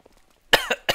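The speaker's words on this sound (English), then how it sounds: "you can still hear I'm like lightly coughing still" Light coughs from a man recovering from an illness, three short close bursts with the first one strongest, and no talk.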